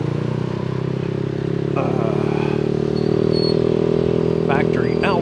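A motorbike engine drones steadily on a street. Its low, even hum stays close and moderately loud, while a person speaks over it.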